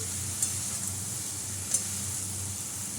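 Badri tangra fish coated in spices and set in hot oil, giving a steady sizzle with a soft stirring texture and a couple of brief clinks, close and alone without talk.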